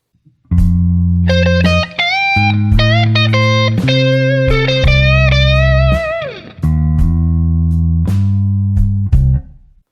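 A distorted electric guitar plays a quick lead lick of bending, sustained notes over chugging low chords, loud and close, with short pauses between phrases.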